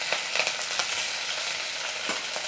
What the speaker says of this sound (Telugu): కట్ చేసుకున్న పచ్చిమిర్చి వేసుకుందాం.